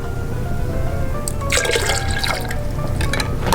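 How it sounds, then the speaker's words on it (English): Water poured into a punch bowl while mixing a sweet tea and ginger beer drink, a close, continuous splashing trickle with a steady low gurgle and brighter spattering bursts through the middle, no voices. "you pour in the water."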